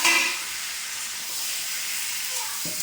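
Ridge gourd fries in a pan for a fish curry, making a loud, steady hiss like escaping steam that is strongest at the start and then settles into an even sizzle.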